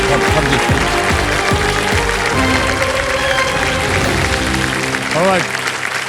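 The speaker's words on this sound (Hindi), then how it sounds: "एक बार फिर जोरदार तालियां बज जाएं सोनिया जी के लिए और उनकी माता जी के लिए" A studio audience on a televised quiz show applauds loudly and continuously under music and a host's voice, with a brief rising musical flourish near the end.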